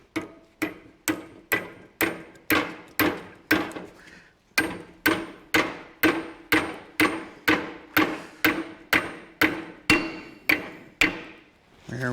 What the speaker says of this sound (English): So now we got a roll pin to hammer in.